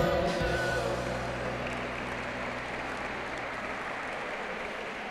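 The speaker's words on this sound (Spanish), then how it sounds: "Un fuerte aplauso para ellos." An outdoor audience at a cross-country duathlon gives applause for officials, an initial burst of clapping that settles into a steady, moderately loud patter with a low hum underneath.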